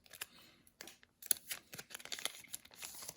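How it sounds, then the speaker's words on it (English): Scissors snipping open a Sorcery Beta booster box, with a series of short, sharp crisp cuts and rustles close by, irregularly spaced with brief pauses between them. "if you're opening them with scissors, I would say make sure that all the cards at the bottom"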